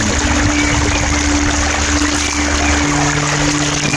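A stream flows steadily without pause, a dense continuous wash of rushing water noise with a low engine-like hum underneath.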